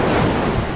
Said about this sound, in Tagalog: Meron nga ngayong kalbog, ang dagat.